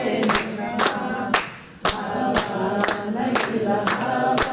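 An audience claps along in a steady rhythm to Hava Nagila, sharp regular handclaps about twice per second over singing voices and crowd noise.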